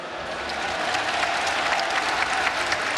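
Crowd applause at an esports regional tournament, a dense steady roar of clapping from a large audience, continuous and even, slightly distant, with no voices standing out.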